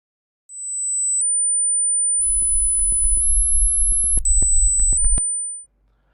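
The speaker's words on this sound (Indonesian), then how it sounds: "suara tajam seperti nging saat kamu berbicara via telepon biasa" A sharp, high-pitched ringing tone on an ordinary phone call, steady and piercing, stepping between a few close pitches for about five seconds, with low crackling line noise and clicks joining partway through.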